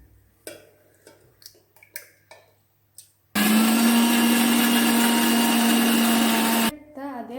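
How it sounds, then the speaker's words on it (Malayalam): An electric mixer grinder beats eggs for a cake, running as a loud, steady motor whine for about three seconds before cutting off abruptly. Light clicks and handling knocks come before it. "നമുക്ക് മിക്സിയിൽ ഇനി മുട്ട ബീറ്റ് ചെയ്തെടുക്കാം."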